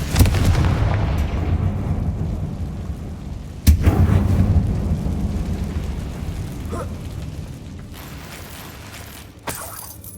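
A Confringo fire spell explodes in the video game Hogwarts Legacy, a deep rumbling blast that swells and slowly fades, with a sharp crack partway through and another smaller hit near the end, no voices over it.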